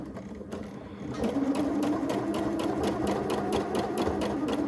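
An overlocker sews the edge of fabric for a draped top, starting with a soft hum and then running in a fast, steady, close mechanical whir without pause.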